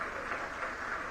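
Audience applause for the Chief Minister at a large cooperative farmers' conference, a faint, steady wash of clapping from a distant crowd.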